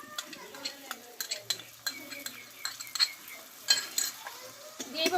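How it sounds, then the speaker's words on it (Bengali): Whisked sour yogurt stirred into cooked-down spice paste in a pan for a banana blossom curry, with rhythmic spoon scrapes and light clinks over a faint sizzle, close up, with brief soft voice sounds. "একটু আমি ভালোভাবে মশলার সঙ্গে দইটা আমি এইভাবে নেড়ে নেবো"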